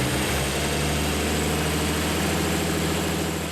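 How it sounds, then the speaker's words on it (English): An Alfa Romeo engine in a junkyard-parts rat rod runs at a steady, loud idle, a continuous close rumble with no talking. "With a roaring engine, the Alfa Romeo can move on to the next phase."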